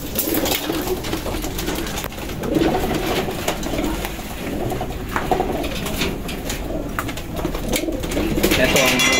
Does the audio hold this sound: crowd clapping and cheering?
no